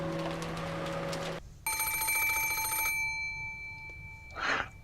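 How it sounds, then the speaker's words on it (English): Shrill electronic telephone bell from the Umineko visual novel, ringing in a sustained tonal burst and then stopping, with faint music before it and a brief noisy rustle afterward. "suddenly, the piercing sound of a phone rang through the room."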